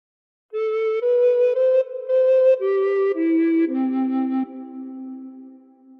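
A recorder plays a short phrase of The Star Spangled Banner, a series of clean separate notes stepping up then down, the last one held and fading, close and solo.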